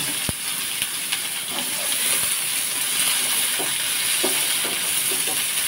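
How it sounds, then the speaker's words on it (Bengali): Spices and dal fry in a pan with a continuous close, hissing sizzle, dotted with faint crackles and occasional light utensil taps throughout. "সবগুলো একটু ভেজে নেব"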